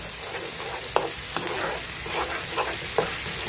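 Onion, minced garlic and coriander fry in a pan with a dense, steady sizzle, punctuated by a few sharp spatula scrapes and taps against the pan.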